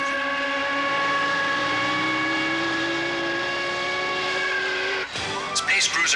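Cartoon fighter aircraft launching, a steady whining engine drone that builds in pitch and then breaks into a sharp whooshing burst of takeoff noise near the end.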